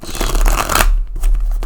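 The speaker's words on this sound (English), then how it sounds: "these cards are really hard to shuffle" Crisp riffling of a deck of tarot cards being shuffled, a close fluttering burst followed by a brief pause and a shorter second shuffle.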